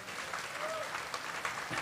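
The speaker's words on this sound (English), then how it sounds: "Let's give another round of applause for Lynch." An audience at a talk gives a round of applause, a steady, fairly distant wash of clapping that continues throughout.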